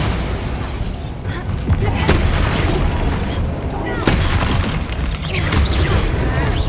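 Bombarda explosion spell in the Hogwarts Legacy video game: loud booming blasts with sharp cracks over a dense rumbling combat background, repeated several times, while a voice speaks.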